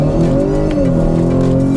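A 2020 Acura RDX engine pulls hard under acceleration, its loud steady drone shifting pitch partway through as the transmission changes gear, heard up close and alone.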